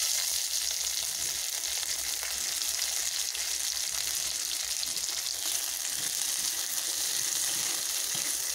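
Broad beans (avarakkai) frying in hot oil in a kadai give a steady, loud, continuous sizzle with a bright hiss that holds evenly throughout, with no talking.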